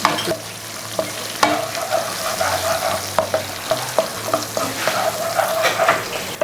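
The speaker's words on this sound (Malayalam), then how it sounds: "പച്ചമുളക് ഇട്ട് കൊടുക്കുന്നു ഇളക്കി മൂപ്പിച്ചെടുക്കാം" Green chilies sizzle and fry in hot oil with ginger while being stirred for beetroot pickle, a steady crackling hiss broken by sharp spoon scrapes and clacks against the pan.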